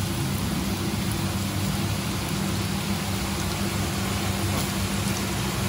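Cheese sticks frying in very hot oil give a steady, dense sizzle and crackle that holds evenly throughout, close and fairly loud with no talking over it.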